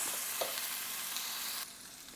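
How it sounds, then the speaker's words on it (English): A salted beef roast sears in a hot skillet with a loud, continuous broadband sizzle. The sizzle drops noticeably near the end. "now I'm going to get my salted roast into the skillet to sear"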